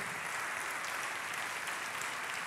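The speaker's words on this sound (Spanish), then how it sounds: "Vamos, aplauda con fe." Church congregation applauding during a service, a dense, even roar of many hands heard from a distance, faint and steady throughout with no voices standing out.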